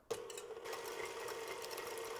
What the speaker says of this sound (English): We're going to turn this on medium-low speed just until the eggs become a bit frothy,